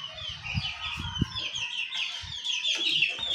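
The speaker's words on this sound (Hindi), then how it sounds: "है हमारे इफ्तिखार भाई, उनके बच्चे का शौक है, ये मुर्गा पालते हैं।" Chickens, including a rooster, cluck and chatter nearby in a few short bursts, with faint bird calls and outdoor background noise running throughout.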